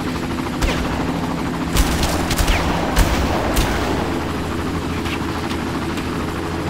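Gunfire in the video game Far Cry, a steady roar of battle noise with several sharp shots and bursts from a machine gunner cutting through, loud and continuous with no talk.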